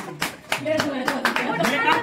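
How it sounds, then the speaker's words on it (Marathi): Audience clapping at a wedding anniversary party, a few sharp irregular claps close by while a voice talks over them. "चला टाळ्या वाजवा"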